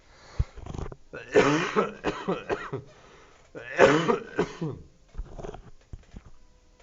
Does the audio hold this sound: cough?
yes